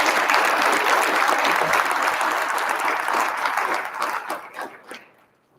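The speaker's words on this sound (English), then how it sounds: "Let's give them all the inductees a round of applause" A banquet crowd at a sports Hall of Fame ceremony applauds the inductees with a dense, sustained round of clapping that thins out and fades to a few scattered claps near the end.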